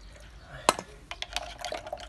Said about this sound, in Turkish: Suyunu ilave edip